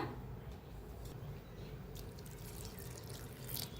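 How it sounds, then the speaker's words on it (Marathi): Water is poured steadily into a container of soaked rice and ginger, giving a soft continuous splashing trickle close by. "त्याला लावून घेऊया थोडंसं पाणी वतून"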